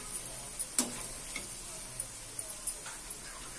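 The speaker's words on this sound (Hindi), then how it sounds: "तो यहाँ मैं फिर दूसरे भी तल लेती हूँ।" Moong dal fritters fry in hot oil with a soft steady sizzle, broken by a few sharp ticks and clicks from a utensil nearby.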